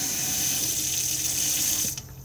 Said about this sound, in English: We need the water pump on so we can get water